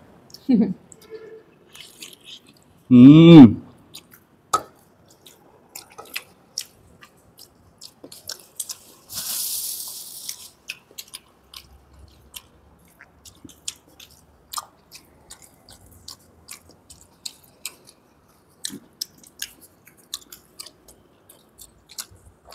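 Wet chewing and biting on Pakistani nalli nihari eaten with paratha, close-up soft squishes and crunches repeating through the clip, with a short burst of louder noise and a brief voice early on.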